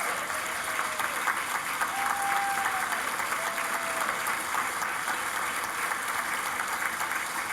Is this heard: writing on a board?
no